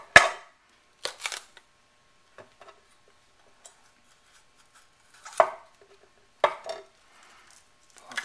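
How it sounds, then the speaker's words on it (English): Knife halving a pepper on a cutting board: a handful of sharp, separate chops and taps spaced irregularly over several seconds, close and fairly quiet with near silence between strikes. "Next up, the pepper. Kind of cut it in half."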